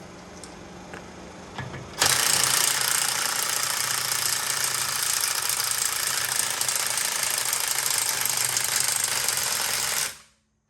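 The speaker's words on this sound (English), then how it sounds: "this is my old snap-on impact, and I even had it rebuilt. I'm curious if this thing will get the lug nuts off." Old rebuilt Snap-on impact wrench working on car lug nuts: faint clanks at first, then a loud, continuous hammering rattle for about eight seconds that cuts off sharply.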